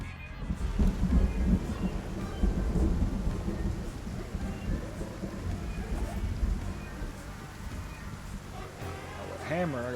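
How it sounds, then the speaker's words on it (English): Rain and rumbling thunder in the Project Zomboid survival game, a dense continuous downpour with low rolling thunder building and fading over about ten seconds, fairly loud and steady, with a faint tonal warble near the end. "It was snowing, now it's raining. It's like freezing rain."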